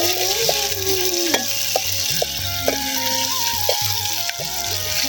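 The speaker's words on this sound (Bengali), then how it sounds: "এবার আমরা দিয়ে দিব পেঁয়াজ।" Onions frying in hot oil in a pan for khichuri, a steady loud sizzle throughout with occasional stirring clinks, no talk.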